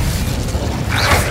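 Incendio fire spell cast in Hogwarts Legacy, a fiery whoosh and burst rising over steady low rumbling game noise, loud and close, swelling near the end.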